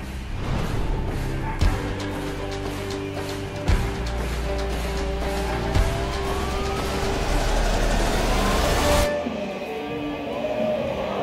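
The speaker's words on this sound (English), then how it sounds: "Bring out the Model Y." Tesla Model Y rolling onto a reveal stage, a continuous electric whine and hiss under loud event music with periodic thumps, the car's rising tone audible before everything cuts off sharply near the end.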